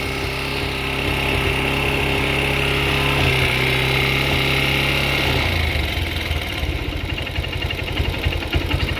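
A Honda Hornet 160R motorcycle engine runs steadily on the bench after a long period without starting, a loud close idle whose firing pulses quicken partway through as the revs are raised, with no voices present.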